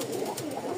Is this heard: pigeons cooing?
yes